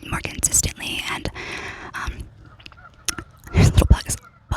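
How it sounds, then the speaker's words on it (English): Geese honk in the background of a quiet rural home setting, a few faint calls mixed under close, soft whispering, with a louder burst of honking near the end. "I live in the middle of nowhere, so there's geese and cows in the background"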